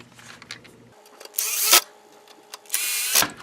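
Screws being driven into a Nintendo NES cartridge housing: two bursts of loud, close whirring from a power screwdriver, each about a second long, separated by short clicks and quiet handling.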